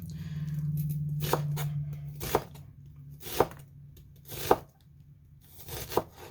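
A knife chops an onion on a cutting board with about five sharp, separate cuts at uneven intervals over a low steady hum, close and fairly quiet.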